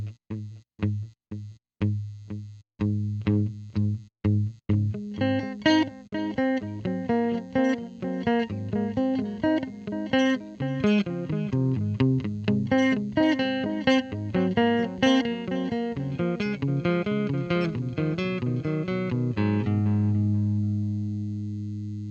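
Electric guitar through an Earthquaker Devices Dispatch Master delay and reverb pedal: single plucked notes at first, then a flurry of picked notes whose repeating echoes pile up into a sustained wash that trails off, close and clean, with no talking.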